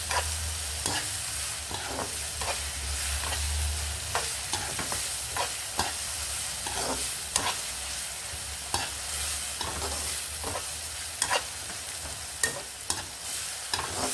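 Onions and spices, including turmeric, fry in a pan for an eggplant gongura stew, sizzling steadily at moderate volume while a spoon stirs and scrapes with repeated soft knocks.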